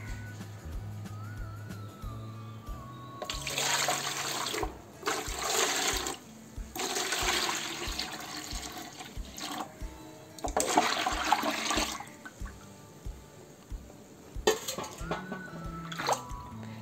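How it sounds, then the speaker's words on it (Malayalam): Rice starch water poured into a basin while treating an iron pot so it becomes non-stick: close, rushing pours in several separate bursts with short pauses between them, and no talking. "ഇതിലേക്ക് നമുക്ക് കഞ്ഞിവെള്ളം ഒഴിച്ചു വയ്ക്കാം."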